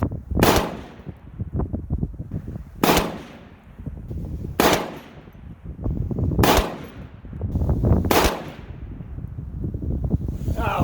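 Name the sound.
rifle shots from PSA 6.5 Grendel rifle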